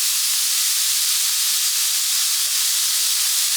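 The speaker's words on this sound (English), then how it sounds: "You can hear the sizzle." A steady, bright hiss of cubed ham sizzling in a hot skillet, constant and close, with no talking.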